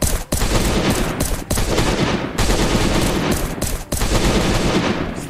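Rapid pistol gunfire from the survival video game Last Day on Earth, a dense unbroken stream of shots interrupted only by a few brief pauses, loud and close throughout.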